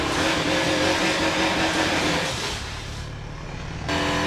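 A Mazda race car's engine drones loud and steady at high speed around Daytona International Raceway in Forza Motorsport 7, easing briefly before surging back to full roar.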